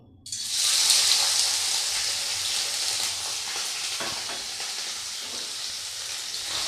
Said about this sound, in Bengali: প্রথমেই আমি পনিরটা ছেড়ে দেবো হালকা করে ভেজে নেব